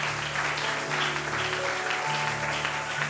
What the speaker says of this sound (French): Acclamez bien pour le Seigneur.